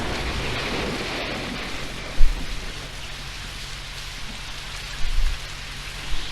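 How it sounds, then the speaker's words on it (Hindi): Rain falls in an animated Dragon Ball Z scene as a dense, steady hiss of downpour, broken by a few soft low thuds. "बारिश होने लगी ये रे सामने।"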